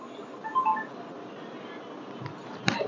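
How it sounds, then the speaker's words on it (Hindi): During a live cartoon-comedy stream, a mobile phone rings with an incoming call as a few short, faint electronic beeps over a low room hum, followed by a sharp click. "फ़ोन आया था मोबाइल में किसी का"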